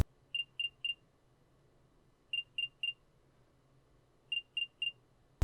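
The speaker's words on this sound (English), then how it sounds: "after playing the sound on your AirPods, it sounds like this" The AirPods Find My alert: three quick high-pitched chirps repeat in a steady pattern, sounding three times with pauses between, small and electronic against near silence.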